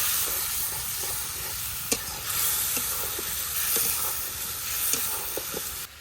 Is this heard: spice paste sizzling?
yes